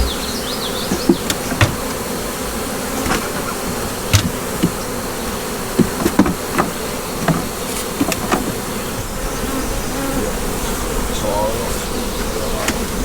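Bees buzz around a small-farm homestead in a steady, dense hum that carries on throughout, with scattered faint clicks and taps and no talking.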